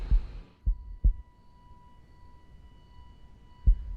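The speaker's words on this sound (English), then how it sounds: "in Dr. Sleep, that heartbeat is a relentless drum" Heavy heartbeat effect from the horror film Doctor Sleep, deep thudding pulses that are loud and close, a double beat followed by a pause and another thump, over a thin sustained tone.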